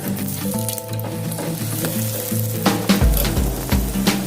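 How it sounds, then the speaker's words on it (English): Carrot and radish paratha sizzling in desi ghee on a hot pan, with a steady loud frying hiss and crackle throughout, brief stirring or flipping bumps near the end, no talking. "Now smear desi ghee, drizzle desi ghee and flip the carrot and radish paratha till both sides are evenly and"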